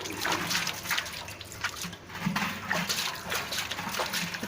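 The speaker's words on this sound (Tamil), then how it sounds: "இப்போ நம்ம தண்ணியில் இந்த மாதிரி லைட்டாக கழுவி விட்டாலே போதும்." Water splashing and trickling steadily as a brass vessel is rinsed by hand, a close, continuous wash with small surges and no talking.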